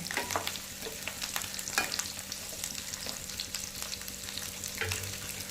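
Okra cooking in a little oil gives a steady, close oil sizzle. Light stirring and scraping sounds come in at intervals, and nobody speaks.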